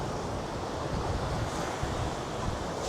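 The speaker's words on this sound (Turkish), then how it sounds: "Bayağı bir rüzgarlı gerçekten." Strong wind buffets the microphone over steady crashing surf at a white-sand beach on Jeju Island's east coast, a continuous loud roar of waves and gusts with no talking.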